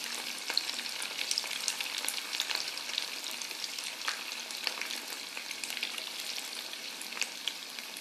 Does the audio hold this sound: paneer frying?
yes